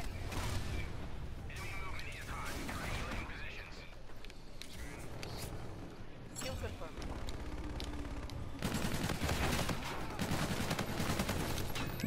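Gunfire from the E-Rad weapon in Call of Duty: Infinite Warfare crackles in dense, continuous bursts through a multiplayer match, with explosions and game effects mixed in and players talking over it.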